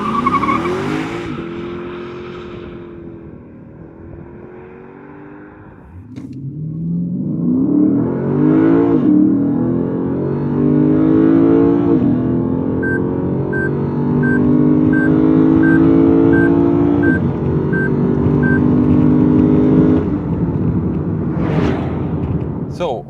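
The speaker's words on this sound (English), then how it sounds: "here there's a dedicated button for launch control. Let's try the acceleration and see what it's like." A Lexus RC F launches hard using launch control, its engine roaring up through the revs with rising tones, a shift and another climb, loud and close, tires briefly chirping as it pulls away.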